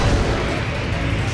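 Deep, rumbling booms of cannon fire in Super Mario Galaxy 2 blend into a dense, continuous roar of explosions.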